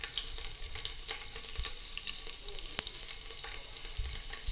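Garlic fries in hot tempering oil with mustard seeds and cumin already crackling. A continuous close sizzle is broken by scattered sharp pops and occasional stirring clatter, with no one talking.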